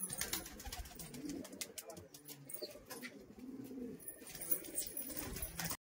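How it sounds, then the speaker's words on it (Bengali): Madras pigeons coo in repeated soft rolling phrases, fairly close and moderately loud, with rustling and scattered background noise between calls. "এই হচ্ছে নর পায়রাটা।"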